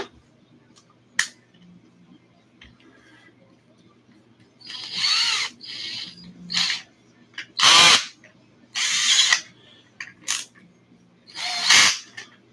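A power drill whirs in several short bursts of varying length, separated by quiet pauses, close and loud, spinning a bolt out of an ARRMA Kraton 6S RC car center drive.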